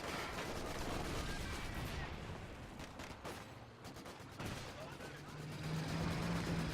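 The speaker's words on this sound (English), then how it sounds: "Sniper picking away at the garrison." Sniper fire and other battlefield gunfire in a WWII strategy video game, dense rattling shots and blasts layered over rumbling combat noise, loud and continuous throughout.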